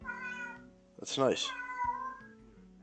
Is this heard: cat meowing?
yes